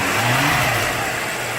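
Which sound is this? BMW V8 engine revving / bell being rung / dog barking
BMW V8 engine revving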